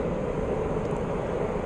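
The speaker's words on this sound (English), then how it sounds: "These bloody planes, ships are flying around like bloody God knows how many business." Spaceships flying past in the video game No Man's Sky, a broad continuous roaring drone, loud and steady with no breaks and no talk.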